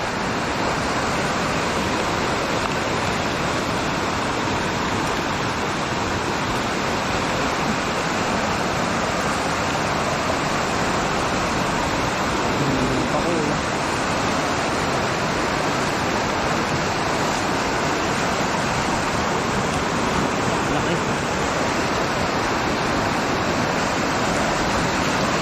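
A big, swollen river rushes by, too high to cross, in a loud, steady, broadband roar that holds unbroken from start to finish with no voices over it.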